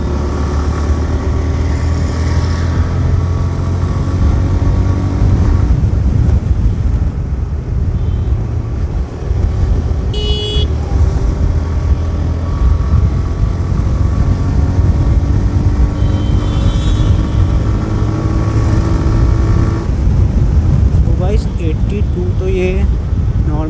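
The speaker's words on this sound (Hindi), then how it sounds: "सो गाइस अब बाइक को थोड़ा भगा के देखते हैं।" A TVS Raider motorcycle being ridden on the road, its engine droning and rising loud and close through the ride, with heavy wind rush across the microphone and speech over parts of it.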